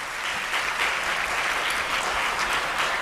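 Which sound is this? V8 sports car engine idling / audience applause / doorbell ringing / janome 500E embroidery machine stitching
audience applause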